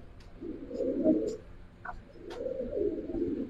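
Cooing of a strong domestic pigeon, one of a set of Gribaz silver chila pigeons kept at a home loft, two low rolling coos close by, separated by a short pause, with faint background chirps.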